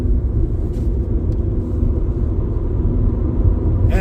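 A manual-transmission car drives steadily in fifth gear, a loud, continuous low engine and road rumble heard from inside the cabin, with a faint click near the end.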